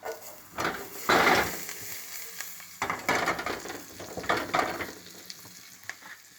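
Butter and a little oil sizzle steadily in a frying pan as garlic and then onion are added, with bursts of louder crackling and some stirring and utensil clatter close by, and no talk.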